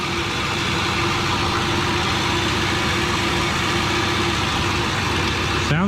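A 1,000-horsepower sleeper Ford F150 engine idles steadily just after its first start, a loud continuous rumble that holds even throughout, with no talk over it.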